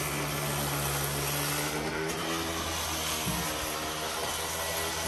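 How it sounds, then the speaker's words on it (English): Angle grinder working detail into the stone lion face of a garden fountain, run at lower RPM; a steady, loud, continuous whine and rumble holds throughout with slight shifts as the tool is angled into nooks. "You can kind of angle the grinder a little bit to get in these little nooks and crannies"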